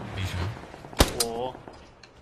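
Gunfire in the battle royale video game PUBG, a single sharp loud shot followed by a fainter second crack, with game ambience and brief voices around it.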